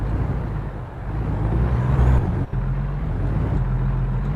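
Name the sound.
truck engine running in American Truck Simulator video game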